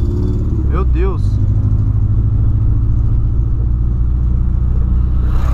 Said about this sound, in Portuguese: Na hora que acelera, ele começa a falhar.